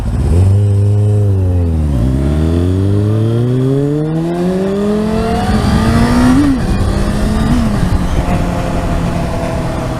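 A car engine revs and accelerates loudly close by, its pitch sweeping up and down through several gear changes as traffic moves along a street.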